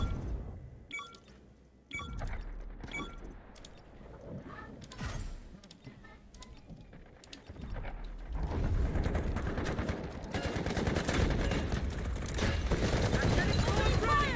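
Rapid gunfire crackles in the mobile shooter Delta Force Mobile, with scattered shots and bursts early that build into dense, sustained automatic fire later, loud and close, while people talk over it.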